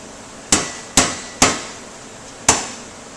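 A hammer gently taps sheet metal while a lip is folded over to form ductwork drives and cleats: four sharp, ringing strikes, the first three evenly spaced and a fourth after a short pause, close and clear.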